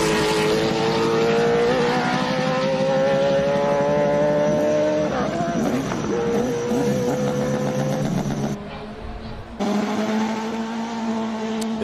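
A race car at the Simola hill climb screams past nearby, its high-revving engine loud and continuous with rising and falling pitch, dropping away briefly near the end before picking up again.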